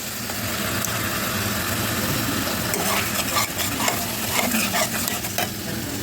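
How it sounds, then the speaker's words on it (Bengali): Masala frying in oil and being stirred steadily before yogurt and green chili paste go in, a loud, continuous sizzle with scraping and clinking from the spoon, close, with no voices. "মশলাটা একটু কষানো হলে আমি দিয়ে দেবো দই। আমি এখন দই আর কাঁচা লঙ্কা বাটা দিয়ে দেবো।"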